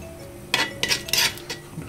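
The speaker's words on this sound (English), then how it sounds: "I'm just getting this butter off of this spoon." A metal spoon clinks and scrapes against a pan several times while butter is knocked off it during Brazilian beef stroganoff prep, short bright taps spaced irregularly over a faint background hum.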